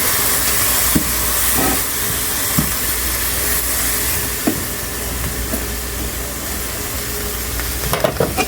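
Chopped vegetables steam and sauté with a splash of water in a covered pan, giving a steady close hiss and soft sizzle with occasional faint clicks and knocks, and no talking.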